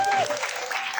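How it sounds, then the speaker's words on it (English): An audience applauds the opening comedians at a comedy roast show, with steady, full clapping throughout while a voice carries over it. "let's give it up to them for opening up the show"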